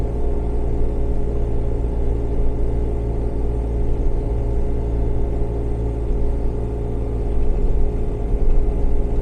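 A Kubota BX23S compact tractor engine holds a steady loud low rumble at about 1600 RPM while it pushes through a snow drift, continuous and close, with no talk.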